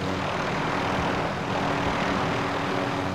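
Helicopter flying in Call of Duty Warzone, a steady, dense engine and rotor drone that fills the whole stretch at an even loudness, with no pauses or talk.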